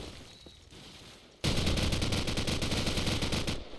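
AKU rifle gunfire in Call of Duty 4 during a competitive match, a sudden sustained burst of rapid automatic shots after a quiet moment, loud and close, ending abruptly.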